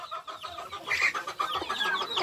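A hen clucks after laying an egg in a backyard flock kept with ducks, giving a steady run of close, fairly loud, rapid cackles with no one talking.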